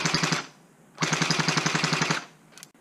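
A G36C V2 gel blaster fires two rapid full-auto bursts, a short one and then a longer one, each a fast, sharp mechanical rattle of shots. A brief click follows at the end.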